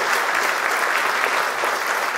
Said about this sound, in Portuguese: eu queria pedir uma salva de palmas para essa história